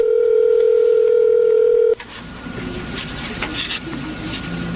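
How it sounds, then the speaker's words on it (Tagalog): A cellphone gives a loud, steady tone for about two seconds as a call is placed. It then cuts off abruptly, leaving a quieter hiss with faint clicks and line noise. "Tatawagan ko siya gamit yung cellphone ko."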